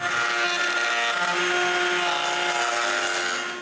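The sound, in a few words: router routing a wooden board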